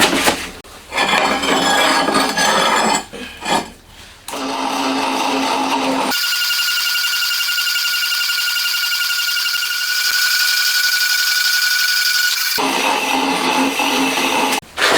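Metal plate being cut for the cam tunnel of a twin-cam 16-valve four-cylinder engine build: clattering handling of the workpiece, then a loud, steady, high cutting whine lasting about six seconds before the clatter returns.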